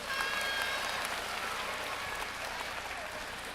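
A studio audience gives steady applause for a young child at a Three Kingdoms history lecture show, an even wash of clapping heard from a moderate distance.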